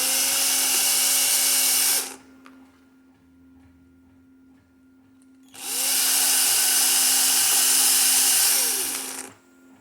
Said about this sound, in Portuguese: eu já furei uma, então estou furando a outra